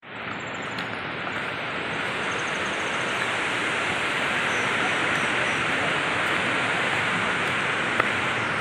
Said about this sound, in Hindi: झरझर झरने